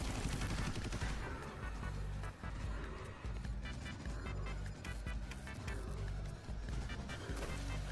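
Rapid video-game gunfire with explosive bursts from a grenade, dense and continuous, loud throughout with repeated sharp cracks layered over a heavy rumbling backdrop.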